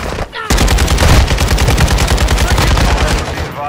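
Rapid automatic gunfire in Call of Duty DMZ, a dense, loud stream of evenly spaced shots running nearly continuously for several seconds after a brief opening shot.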